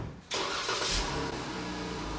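A tow vehicle for a travel trailer cranks and fires up, a sudden loud catch after a brief quiet start, then settles into a steady rumbling idle close by.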